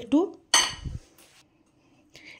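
Cutlery clinks and scrapes against a plate while tomato sauce and mayonnaise are spread over a roti for a chicken corn frankie, in a few brief, close, bright strikes with quiet gaps between.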